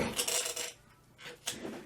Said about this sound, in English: Sounds like pots and pans.